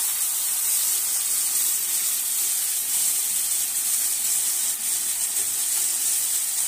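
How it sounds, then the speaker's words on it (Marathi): Onion and tomato sautéing in hot oil with garlic in a pan make a steady, bright sizzle and hiss that runs unbroken and close throughout. "त्यातच आता आपल्याला हे कांदा आणि टोमॅटो घालून व्यवस्थित असं परतून घ्यायचं आहे"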